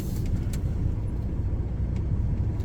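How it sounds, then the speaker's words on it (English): A scrap truck being repositioned, its engine giving a steady, loud low rumble close by with no pauses, alone without talk. "we are just repositioning the truck"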